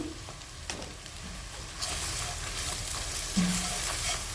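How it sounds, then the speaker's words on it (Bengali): Spices frying with pangas fish in a pan, a steady broadband sizzle that swells louder partway through, with an occasional spoon scrape against the pan, close and alone. "সবগুলো মশলা আমি আবারও একটু ভেজে নিচ্ছি"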